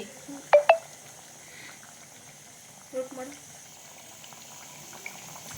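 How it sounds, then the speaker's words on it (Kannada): Butter made from packet-milk cream bubbles in a pan as it boils down into ghee: quiet simmering with a few sharp, close pops and crackles scattered over a faint background. "ತುಪ್ಪ ಎಷ್ಟು ಚೆನ್ನಾಗಿ ಬೆಣ್ಣೆ ಕುದಿ ಬರ್ತಾ ಇದೆ"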